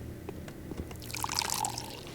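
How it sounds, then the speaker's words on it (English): Water filling bottles in the game Pathologic, a short liquid pour that swells into a brighter trickling fill toward the end, heard alone and fairly close. "I only have a few bottles to fill."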